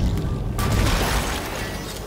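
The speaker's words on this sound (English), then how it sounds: "I can shoot a mine out" A mine bursts with a loud, deep boom in the Dead Space game, a sudden blast after a brief low rumble, then a long, roaring decay close by.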